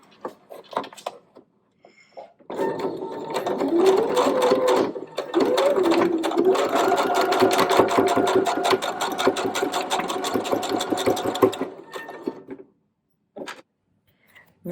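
A sewing machine stitches back and forth over the elastic of a fabric scrunchie, a loud fast rhythmic whirring with a couple of pitch shifts as it reverses, preceded and followed by brief handling clicks and taps.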